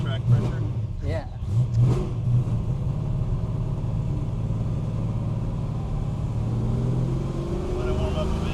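A Fox-body car with a 408 engine idles steadily while warming up, a continuous low rumble with a brief rise in revs near the start, and people talking over it.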